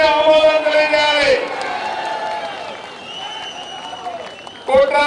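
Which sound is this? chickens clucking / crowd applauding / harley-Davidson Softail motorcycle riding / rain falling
crowd applauding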